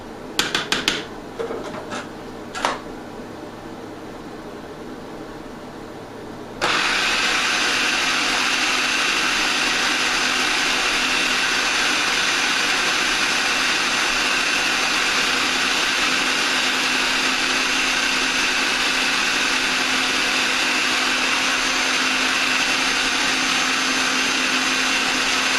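A blender purées dates into a thick raw caramel base. A few sharp clicks and knocks come first, then the motor kicks in with a loud, steady, continuous whir.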